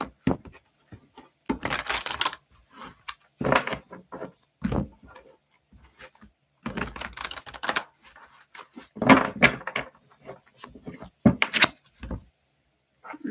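Large tarot cards are shuffled in quick bursts of riffling and slapping, close and crisp, in irregular clusters with short pauses between them.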